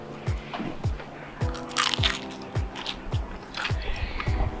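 Repeated crunchy bites and chewing of crispy keto chicken thigh skin, close to the microphone, with regular loud crackles roughly every half second and no talk.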